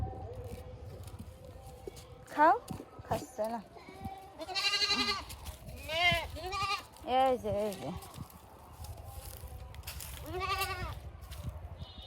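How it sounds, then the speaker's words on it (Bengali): A goat bleats repeatedly out in a village yard, a series of loud, close, wavering cries spread over several seconds, with quieter background noise between calls. "আমার ছাগলটা তো ঠিক আছে"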